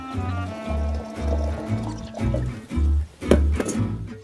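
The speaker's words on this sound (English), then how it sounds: "I pour some just boiled water into my watering can" Just-boiled water poured from a kettle into a garden watering can, a series of gurgling splashing pulses, close and clear with no talk.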